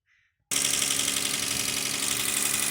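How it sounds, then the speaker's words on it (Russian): Toyota Mark II with a 1G-FE engine catches and idles right after startup, a loud steady running drone kicking in abruptly after a brief faint lead-in. "Ну вот, завели мотор."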